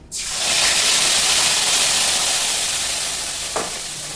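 A paste of ginger, garlic, green chili and cumin hits hot oil with spices, bursting into a sudden loud sizzle that holds steady and slowly eases, with one brief stir near the end; no talking.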